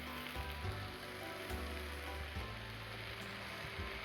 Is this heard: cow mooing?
no